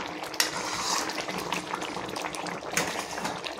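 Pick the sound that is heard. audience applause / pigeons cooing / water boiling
water boiling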